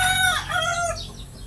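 A Gilmore bloodline hen cackles close by in a short burst of loud, rhythmic clucking calls.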